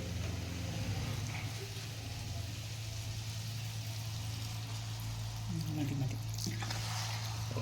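Vinegar poured into a hot pan of green papaya pickle gives a steady, close sizzle and hiss over a low constant hum, with a voice speaking faintly beneath.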